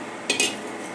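Vanilla custard powder is stirred into a little milk to make a thin paste, giving two quick spoon clinks against a bowl over a faint background hiss.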